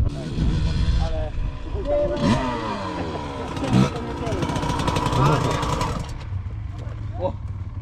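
A Honda TM 125 dirt bike engine revs up and down repeatedly, rising and falling in pitch, with voices talking over it.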